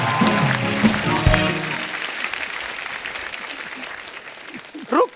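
A studio audience at a comedy show bursts into loud applause that gradually tapers off, followed by a brief voice at the very end.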